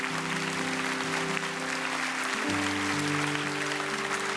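Warm, continuous applause from a church congregation fills the space as a blessing, dense and even, with sustained keyboard chords ringing beneath the clapping.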